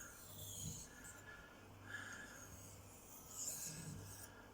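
A knife bevel is drawn by hand across a sharpening stone in slow, repeated rasping passes, each stroke a faint, soft grinding rub rising and fading at a quiet, steady pace, with no voices.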